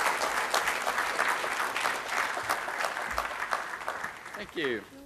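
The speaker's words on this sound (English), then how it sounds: "let's clap really loud and welcome the gentleman on stage" An audience applauds to welcome a guest speaker onto the stage at a connected-car technology talk, a dense steady round of clapping that fades near the end as a voice begins speaking.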